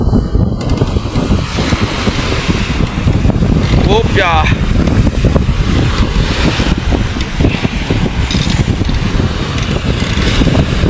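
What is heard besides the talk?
big sea waves and wind at Panabi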